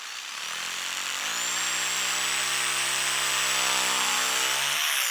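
A power tool cuts the corners off a heavy rubber mat for reusable shooting targets, spinning up after a second into a loud, sustained whine with a steady buzzing drone before cutting off near the end.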